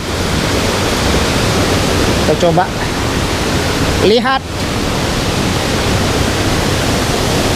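A river flowing into a second waterfall, a steady loud rush of water filling the whole stretch, with a person briefly speaking over it.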